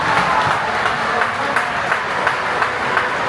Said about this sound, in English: Flat Cap Tony's clap is outdoing everyone else